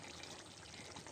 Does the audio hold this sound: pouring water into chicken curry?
yes